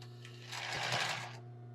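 Sewing machine stitching tulle and lace for a bra, a short burst of rapid mechanical whirring that swells and stops over a steady motor hum, fairly quiet and close.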